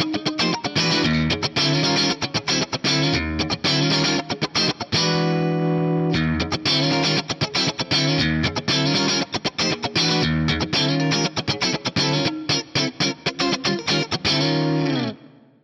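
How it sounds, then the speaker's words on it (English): A funky electric guitar riff is played with a compressor pedal switched off and then on, choppy muted strums and chords sounding loud and close, with no talking. "I'll play something kind of funky with a compressor off and then with a compressor on."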